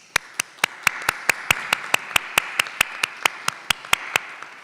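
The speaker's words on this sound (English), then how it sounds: "So we'd like to give you a round of applause." Evenly spaced single claps ring out one after another in a steady beat at a nursing and health sciences recognition ceremony, sharp and distinct over faint room noise rather than a full crowd ovation.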